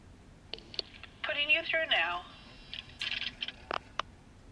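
A telephone in the video game LA Noire Remastered is picked up and used: soft clicks and handset tones come in short bursts, with a brief voice-like passage in between.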